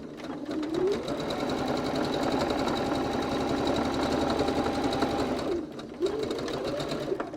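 A sewing machine stitches the last short end of a cylindrical case in one continuous, close run, its rapid needle clatter steady before a brief stop and a short restart.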